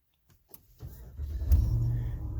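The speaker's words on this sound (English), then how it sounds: "When you first turn on the truck" A 2020 Dodge Ram pickup starting up, with a brief click followed by a steady low engine rumble that swells once and settles into an even idle, close and fairly loud, with no talking.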